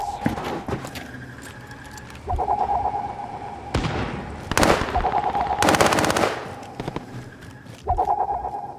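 Gunfire in the video game Call of Duty Warzone. Loud, rapid automatic bursts come in several clusters, separated by short quieter gaps.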